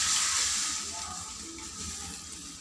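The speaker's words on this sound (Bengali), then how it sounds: "জল ঢেলে দিলাম" A handful of water is poured into a hot pan of stirred bottle gourd, giving a loud hiss and sizzle that slowly settles and fades over a couple of seconds.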